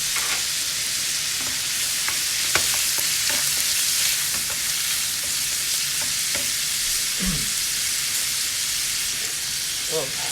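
Squirrel meat sizzles steadily in a hot pan seasoned with salt and pepper, with scattered scraping clicks as it is stirred, the frying hiss close and continuous throughout.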